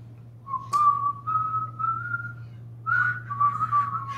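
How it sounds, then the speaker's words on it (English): A person whistles a slow, wavering tune in two long phrases, close and clear over a low steady hum. "I would whistle with you, but for some reason I can't."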